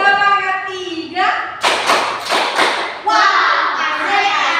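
Primary school children in Sumenep performing the 'tepuk semangat' clapping cheer: a teacher's voice, then a burst of several loud, rapid claps in a quick rhythm, followed by children's chanting voices.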